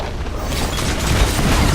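A loud, dense rumbling blast from the video game League of Legends fills the short moment, with broadband roar sustained throughout and no voices.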